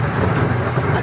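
A small toy train at a zoo rolls slowly along with a steady, continuous low rumble and rattle, close by and fairly loud, without clear voices over it.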